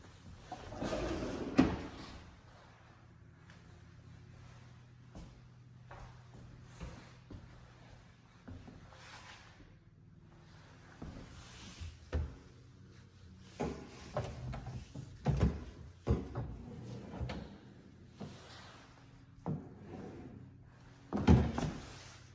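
Pots-and-pans drawers in the kitchen of a custom three-bedroom modular home with dovetail construction slide open and shut, a series of soft thuds and knocks spread unevenly through a quiet room.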